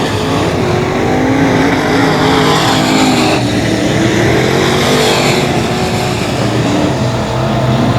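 Race cars at 281 Speedway roar past in a loud, continuous blur of engine noise, several machines overlapping as they tear down the back straightaway, with no voices over the din.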